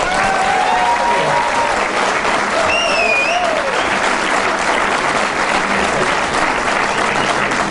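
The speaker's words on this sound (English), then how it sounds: "Applause for this little girl here" An audience at a pool trick shot show applauds a little girl, loud continuous clapping with a few whistles over it, steady from start to finish.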